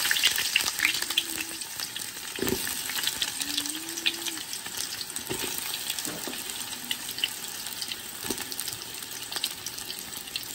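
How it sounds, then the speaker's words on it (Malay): Onions sizzle and crackle in hot oil at a steady, moderate level, frying until browned for chicken biryani, with occasional clinks of a utensil stirring the pan. "Goreng sampai perang"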